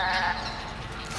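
A goat in Resident Evil 5 gives a short nasal bleat, near and fairly faint, fading within about a second.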